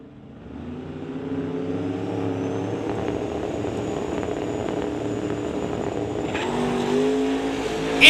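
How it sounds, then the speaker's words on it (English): Mustang drag cars launch at a drag strip with tire spin, a loud, sustained engine roar building over several seconds with a faint rising whine and a sharp burst at the end. "Instant tire spin for Sangha."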